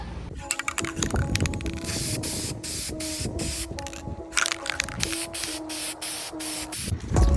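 Aerosol spray paint applied to car brake calipers in short repeated hissing bursts with brief gaps between them, close and fairly loud, with faint mechanical clicks from the can.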